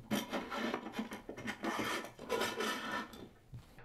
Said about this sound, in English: slide those square bolts into the C channel on the back of your aluminum fence